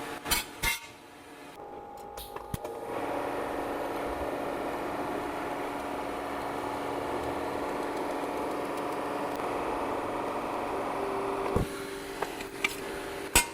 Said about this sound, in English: now I can finish weld all these joints